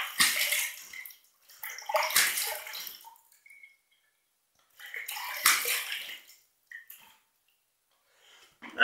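Water runs in bursts while a freshly shaved face is rinsed after an Arko shave stick lather, with two long splashing spells separated by quiet pauses and a few small drips, close and fairly soft.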